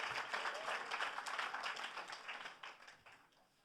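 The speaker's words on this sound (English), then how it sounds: "So they deserve a huge round of applause for doing this." Applause from an audience at a Grammy Museum benefit event, fairly faint and distant, a steady wash of clapping that thins out and fades over a few seconds.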